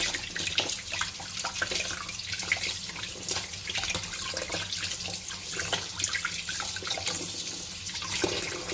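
Tap water runs steadily into a sink as cured beef for pasturma is rinsed under it, a dense, even splashing hiss with small shifts as the meat moves through the stream, with no talk.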